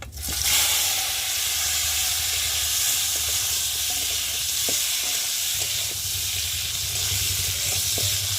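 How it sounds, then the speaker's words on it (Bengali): Boiled potatoes fry in hot oil with bay leaf and whole cumin in a kadai, a continuous close sizzle punctuated by stirring clicks and scrapes, with no talking. "আর এখন সিদ্ধ করে আলুগুলোকে ভালো করে ভেজে নেব।"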